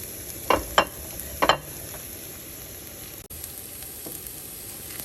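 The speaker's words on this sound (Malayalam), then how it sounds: "ഗാർലിക്കിൻ്റെയും ജിഞ്ചറും ഒന്ന് ആദ്യം ചെറുതായിട്ട് വഴറ്റിയിട്ട് നമുക്ക് ഓണിയൻ ഇടാം." Garlic and ginger sauté in a pan for a Kerala-style goat curry, giving a steady soft sizzle with a few sharp bursts of stirring and scraping near the start.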